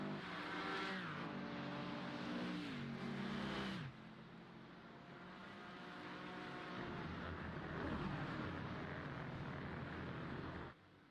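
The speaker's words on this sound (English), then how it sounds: "Hard on the throttle, shifting up through the gears right there." A race car at Summit Point in a sim racing game accelerates hard, engine pitch climbing and dropping sharply at each upshift through the gears, then settling into a steady loud drone that cuts off near the end.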